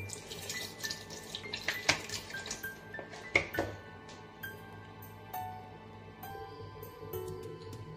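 Blood pours into a cooking pot for dinuguan with a running, trickling liquid sound, joined by a few sharp metallic clinks of utensils against the pot.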